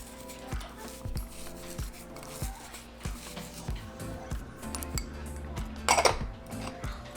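Cumin and oregano are crushed and mixed with breadcrumbs in a bowl, giving repeated clinks and scrapes of a utensil against the dish at an irregular rhythm, close up, with a brighter rattle near the end.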